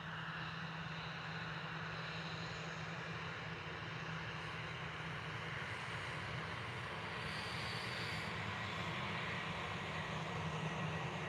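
Engines of an easyJet Airbus A319-111 at Liverpool Airport, a faint, steady distant roar and hum holding throughout with no talking.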